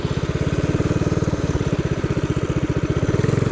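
Motorcycle engine running steadily while riding on a wet road, a loud, close, rapid pulsing throb that holds an even rhythm throughout.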